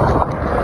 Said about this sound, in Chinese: 逆风骑行，阻力特别大，现在还刮大风